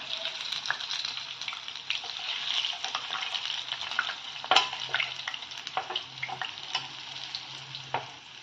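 Gokul pitha frying over low heat, with hot oil spooned over the top. A close, continuous sizzle runs throughout, broken by sharp clicks and scrapes from a spatula or spoon, and no one speaks.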